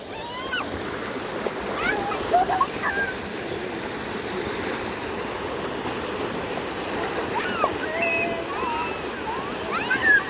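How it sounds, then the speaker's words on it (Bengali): Floodwater rushing across open fields, a steady broadband wash of flowing, splashing water that stays loud throughout, with faint children's voices and brief whistling calls over it. "কি পরিমাণ পানি আইতাছে"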